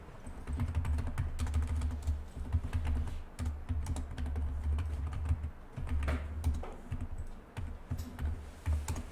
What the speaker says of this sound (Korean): 컨트롤 N을 눌러서 저는 제작을 해보도록 하겠습니다.